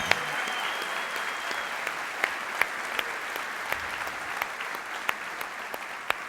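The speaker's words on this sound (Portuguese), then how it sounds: "Vamos aplaudir mais forte, queridos." Steady applause fills a church as the congregation claps together, a continuous wash of many hands with a few sharper individual claps standing out.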